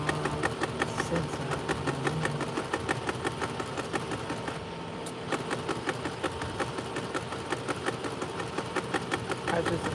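A sewing machine stitches denim in a fast, steady mechanical chatter, close and continuous with a short pause midway, while a voice speaks faintly underneath.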